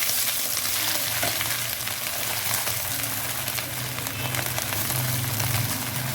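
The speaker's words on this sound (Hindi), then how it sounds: "यहाँ पे मैं 1 टेबल स्पून अदरक और लहसुन को कूटा हुआ है वो इसमें डाल रही हूँ। इसको मैं भूनूंगी 1 से आध मिनट के लिए।" Crushed ginger and garlic frying in oil in a karahi for bhindi masala, with a steady close sizzle and crackle throughout and occasional stirring scrapes.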